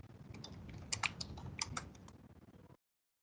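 Light tapping on a computer keyboard, a short burst of keystrokes in uneven rhythm at low level, stopping abruptly near the end with no talking.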